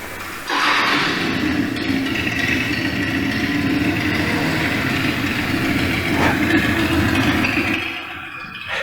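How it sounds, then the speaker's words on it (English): A Harley-Davidson motorcycle engine kicks in and holds a loud, steady, throbbing rumble for several seconds before tapering off near the end, with no talking over it. "That sound is so much a part of the Harley brand name."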